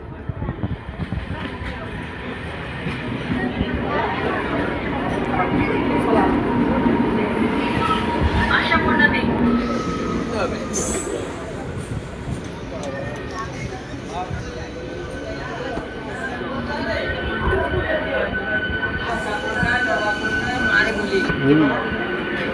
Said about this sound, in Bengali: অবশেষে আমাদের ট্রেন 1 ঘন্টা 14 মিনিট লেটে ঢুকছে